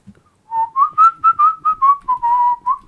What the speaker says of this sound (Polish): Wiesz, jak to boli, jak ktoś gwizdze?